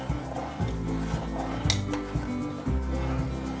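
Egg being stirred into hot and sour soup in a pot, with repeated soft clinks and scrapes of a utensil against the pot in a steady rhythm, close up and moderately loud.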